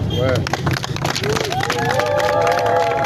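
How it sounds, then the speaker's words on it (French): A crowd cheers and claps for General Padiri, a sustained, loud wash of applause mixed with raised, shouting voices that carries through the whole stretch without letting up. "Applaudir aussi pour"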